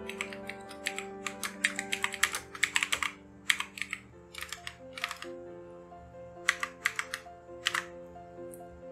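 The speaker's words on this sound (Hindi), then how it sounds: "ये हमारी टाइपिंग कंप्लीट हो गई है।" Fingers type on a computer keyboard in quick, irregular runs of crisp clicks with brief pauses, fairly soft, over a sustained tonal background.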